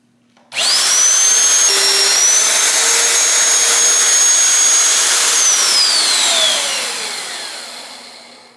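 A power drill bores a hole through the steel frame of a Peterbilt 359 EXHD truck under restoration, a loud sustained whine that starts abruptly, holds with a steady pitch, then slowly winds down, with no talk.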